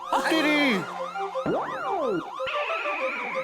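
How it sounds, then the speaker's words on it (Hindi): A wailing police siren ringtone sweeps up and down in repeated electronic tones, loud and close, with a second siren pattern cutting in near the end. "ओ फोन में पुलिस सायरन का रिंगटोन क्यों रखा?"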